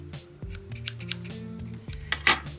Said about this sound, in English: I'm gonna give it one more tiny little trim to cut the fluff that sticks out quite far